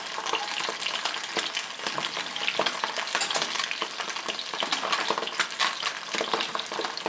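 Seasoning whisked into hot polenta liquid in a pot, a continuous busy scraping and bubbling swirl heard up close, brisk and unbroken, with no voices.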